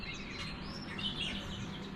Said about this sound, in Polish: Taki widok mamy, ptaszki ćwierkają